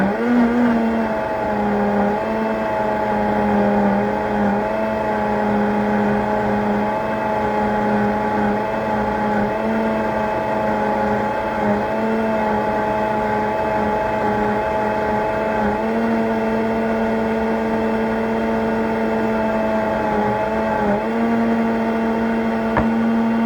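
A kitchen grinder spins and grinds ingredients, giving a steady, humming motor whine that holds at an even pitch for the whole stretch.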